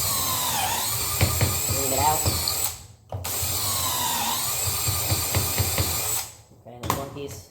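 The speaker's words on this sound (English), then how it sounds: "I got my drill set on 2," A power drill set to its higher speed bores pocket holes into wooden drawer pieces, whining loudly in two long runs of about three seconds each, separated by brief pauses, with a person speaking briefly.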